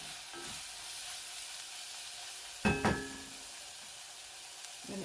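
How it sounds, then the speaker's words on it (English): Onions and cabbage sauté for haluski in a pan with a soft, steady sizzle, broken by one sharp metallic clink of a utensil midway and a few faint scrapes. "I added in my onions and my cabbage. And this is where I am sauteing those."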